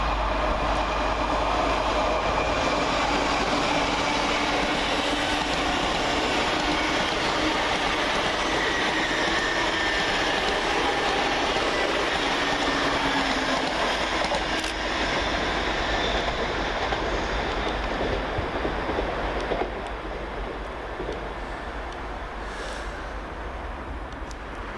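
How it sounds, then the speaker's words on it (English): An LNER Class 801 train runs past at Peterborough station on a Leeds to London King's Cross service, producing a sustained loud rolling roar and wheel noise that eases slightly toward the end. "going the opposite way for LNER is 801-209 working 1 Alpha 37 from Leeds to London King's Cross"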